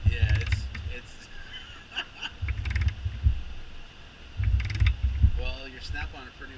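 A Snap-on cordless ratchet wrench turns a failing, stripping bolt in short whirring bursts, three main runs with pauses between, close and fairly loud, with people talking over and around it.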